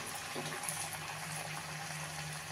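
A multigrain vada fries in hot oil, bubbling with a soft, continuous, even seething that stays faint and close throughout.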